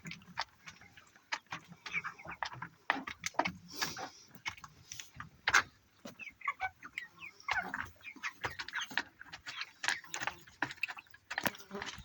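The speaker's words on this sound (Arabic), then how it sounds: "فراخ اهي يا جماعه بتاكل وبيشربوها." Rapid, irregular tapping and pecking clicks of chickens picking at feed, with faint clucks and a soft chirp scattered throughout.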